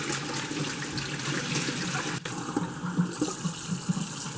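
Tap water runs steadily into a sink while pomegranate seeds are rinsed, a continuous close splashing wash with a brief dip midway and no voices.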